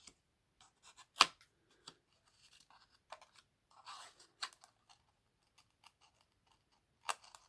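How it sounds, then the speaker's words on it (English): Scissors snip paper for a project page in sparse, quiet cuts, each a short crisp click or crunch, scattered irregularly with a couple of sharper snips, no voices. "I may have to try my hand at using my scissors"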